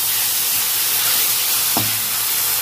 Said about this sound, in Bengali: আদা রসুন পেঁয়াজ একসাথে সব ভালো করে ভেজে নেব।